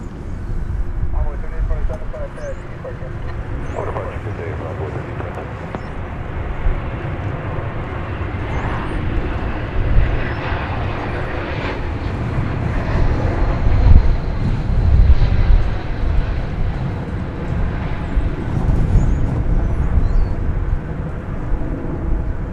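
A passenger jet taking off from DFW Airport, bound for Las Vegas, makes a broad, steady engine roar. The sound swells gently and stays loud throughout, with voices talking faintly underneath.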